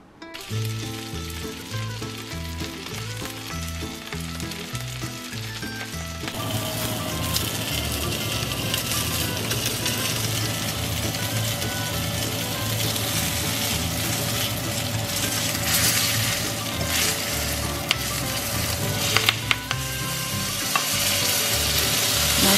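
Sausages with cheese and bacon fry in a pan with a continuous, fairly loud sizzle and crackle that grows denser after the first few seconds, with no talking.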